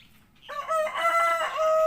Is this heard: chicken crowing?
yes